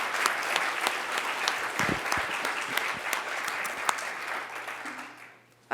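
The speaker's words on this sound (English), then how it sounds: "please join me in a round of applause for this really great conversation" An audience at a journalism talk applauds after an onstage conversation. Steady, full clapping holds for about five seconds, then fades quickly, and a voice cuts in at the very end.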